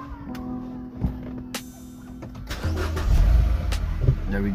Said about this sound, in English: Turn on the engine for coding.